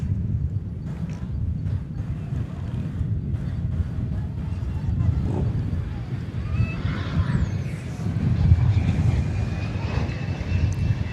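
A Cessna Citation Latitude business jet arrives at DFW from Oklahoma City, its engine noise rising and swelling to a peak near the end, with people talking faintly underneath.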